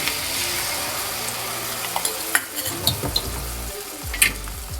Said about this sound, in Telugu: పెనం మీద నూనె పోసి కొద్దిసేపు కొంచెం వేడి కాగానే దాని తర్వాత నేను కలుపుకున్న ఆమ్లెట్ అయితే వేసేస్తున్నా